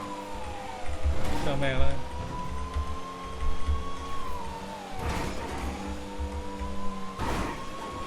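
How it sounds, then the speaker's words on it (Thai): A police car siren in the FiveM game wails in long rising and falling sweeps over revving engine noise, while someone talks briefly over it. "นี่รถตำรวจมันแรงอ่ะ แรงกว่า"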